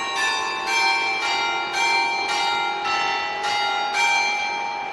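Church bells ring from a bell tower in Bucharest, a series of clear, resonant strikes about every half second, each note overlapping the ringing decay of the last, loud and alone without voices.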